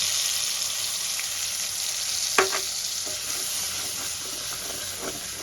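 Soaked spice paste fries in oil in a wok, giving a steady close sizzling hiss with one sharp clatter of a utensil and a few soft stirring scrapes.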